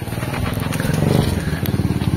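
A motorcycle arrives at a farm. Its engine throbs in a steady, close, fairly loud rhythmic putter for a couple of seconds, with faint scraping around it.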